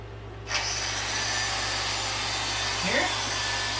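A faulty hair dryer running with a loud, steady broadband blowing roar and an underlying motor hum, with a brief rising whine partway through.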